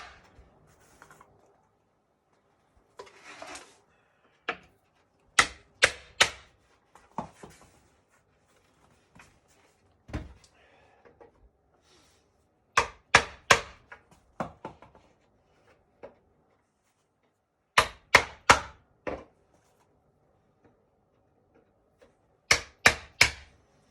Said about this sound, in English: you want to put the chisel so it spans the split of the wood